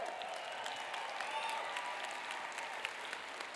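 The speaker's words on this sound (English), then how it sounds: "Give them a round of applause." Sustained applause from a gala audience, a dense, even patter of many hands clapping at a steady moderate level throughout.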